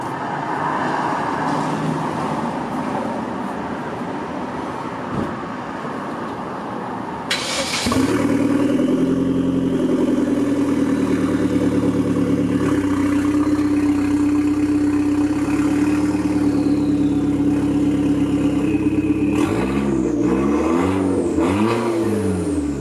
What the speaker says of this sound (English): I'm gonna go ahead and start up the car